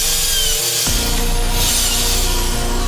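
A panel router whines loudly at close range while making trim cuts in wood, its motor tone shifting sharply once as the bit engages the workpiece.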